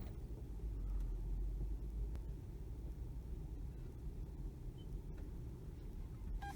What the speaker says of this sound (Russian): Машина начинает двигаться и сама рулить.